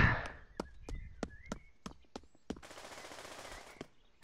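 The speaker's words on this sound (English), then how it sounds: "Everybody seems to be using SMGs." Single SMG shots crack out in Pavlov VR, a string of sharp separate bangs at irregular intervals, then a burst of hissing noise near the end. There is no talk.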